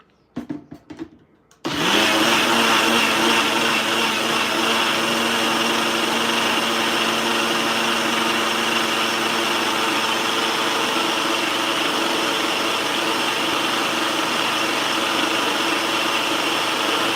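A bullet-style blender whirs up to a loud, steady high-speed spin while blending a fig mixture, holding one constant motor drone throughout after a brief quiet start.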